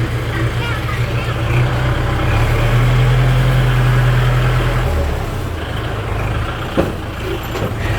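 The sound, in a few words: truck approaching and idling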